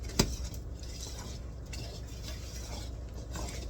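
Cherry nut bread batter being mixed in a bowl, opening with one sharp clink of utensil on bowl, then soft, steady stirring and scraping, quiet and close.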